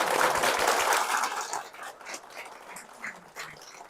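A church congregation bursts into applause, a dense burst of clapping that is loudest at the start, then thins into scattered claps and faint voices over a few seconds.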